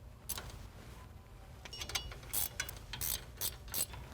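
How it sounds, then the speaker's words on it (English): A ratchet clicks in short bursts while hub bolts are tightened onto the spindle during a Jeep Wrangler front disc brake install, with quiet, close ratcheting spread through a few seconds under a low background hum. "Install the bolts that hold the hub onto the spindle. Tighten the bolts up."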